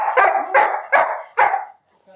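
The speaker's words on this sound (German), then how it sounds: "wenn er nicht weiß, was er machen soll, ist bellen" A large dog barks four times in a steady rhythm, loud and close, before falling quiet; no one speaks.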